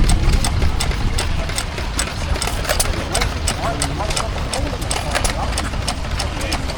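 Small 2 horsepower Roseberry stationary engine from Australia running at a country show, a steady rapid chugging beat with sharp regular exhaust pops close by, over outdoor crowd murmur.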